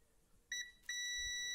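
A multimeter emits continuity beeps while probing an inductor coil inside a 50-watt LED SMPS driver: a short high electronic tone, a brief pause, then a steady sustained beep in a quiet room.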